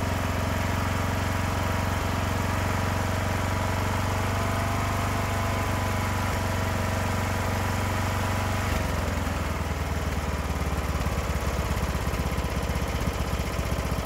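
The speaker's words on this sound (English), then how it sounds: "you can kind of hear that it's running steady, but it's got a little burble to it, you know, just a little bit of flutter" A small engine with a freshly repaired valve seat idles steadily with a slight burble and flutter, a loud continuous drone with a low pulsing hum that shifts slightly in tone partway through.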